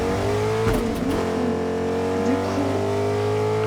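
Rocket League car engine in Fortnite, a steady loud droning rev with layered harmonic whine, held close throughout while someone says a couple of words.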